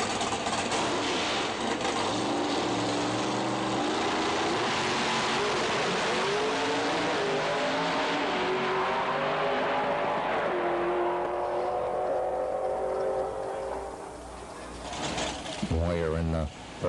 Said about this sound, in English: Smokes up the tires with a hard burnout charge.